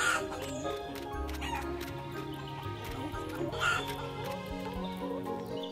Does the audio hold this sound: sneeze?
no